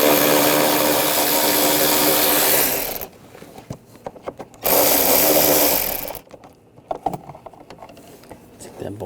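An air ratchet spins a 10mm socket to remove a bolt from a 2008-2012 Jeep Liberty 3.7L V6 during an A/C condenser fan replacement, with two loud sustained whirring bursts and lighter clicks and handling noises in between.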